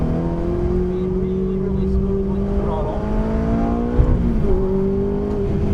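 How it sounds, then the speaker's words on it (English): A Ferrari race car brakes hard and downshifts into second gear for a hairpin corner, its engine note droning and stepping in pitch under continuous wind rush, with a voice talking over it. "Back on the brakes hard. Downshifting into second gear for a hairpin corner through here."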